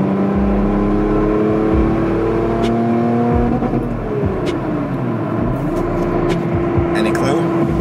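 Lotus Evora engine held just under 5,000 RPM in sport mode, a loud, steady close-up drone with shifting pitch as revs rise and fall, continuous throughout.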